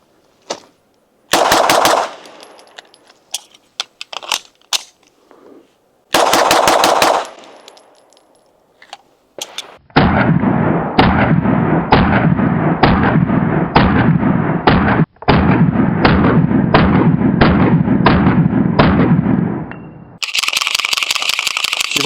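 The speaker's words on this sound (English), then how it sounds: "I'm about to do some mag dumps with it" A Canik TTI Combat Smoke pistol with an extended magazine fires several loud, close mag dumps. Quick strings of sharp shots come in bursts separated by short pauses, with a long rapid run near the end.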